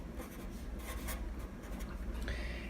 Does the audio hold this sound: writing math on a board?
yes